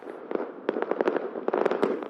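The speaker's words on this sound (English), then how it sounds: "Here, fireworks were let off from secret locations, so people wouldn't be tempted to gather outside." Fireworks set off from hidden spots in Newcastle on New Year's Eve crackle in a quick, dense string of sharp pops and bursts, moderately near and with no voices.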